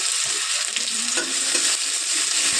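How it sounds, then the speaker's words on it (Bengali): Finely chopped onion frying with whole cumin seeds in hot oil, a steady close sizzle with faint stirring scrapes throughout, no voices. "এই পেঁয়াজটা ভেজে নেব।"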